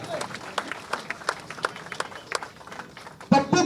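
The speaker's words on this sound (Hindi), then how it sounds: "पुनः तालियां बजाएं" Audience applause at an Islam Party appointment event in Aurangabad, a steady ripple of clapping from a crowd that swells louder near the end.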